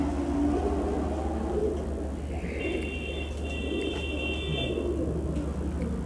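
Giribaz highflyer pigeons coo softly in a pet shop over a constant low hum, with a thin, steady whistling tone running through the middle.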